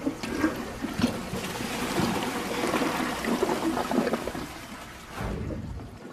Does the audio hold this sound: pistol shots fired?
no